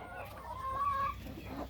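Sonali chickens on a laying poultry farm, one short drawn-out cluck rising near the middle over a low background hum, brief and fairly faint.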